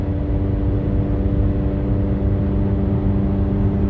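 A 2010 Kia Soul with a loud, failing exhaust, rusted joints blown apart, drives on rough New Brunswick roads, giving a steady low engine drone and rumble that runs unbroken throughout.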